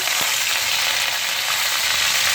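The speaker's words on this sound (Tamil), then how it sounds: "நம்ம எடுத்து வச்சுருக்க கடுகு உளுந்து சீரகம் மூணையும் இதில் போட்டுக்குவோம் நல்லா பொரியட்டும்" Mustard seeds, urad dal and cumin spluttering in hot oil for an ivy gourd (kovaikkai) poriyal, a loud, dense, continuous crackling sizzle close by that stays even throughout.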